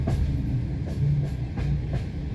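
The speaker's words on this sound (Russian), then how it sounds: "вот поет поезд, друзья, слушайте, как поет" A train travelling between Sukhum and Lazarevskoye rumbles heavily along the rails with rhythmic clicks of the wheels, a low continuous roar heard from on board.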